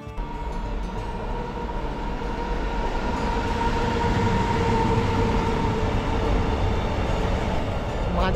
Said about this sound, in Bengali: মাঝে মধ্যে ট্রেনের আওয়াজ এবং এই শুনশান স্টেশন জাস্ট অসাধারণ।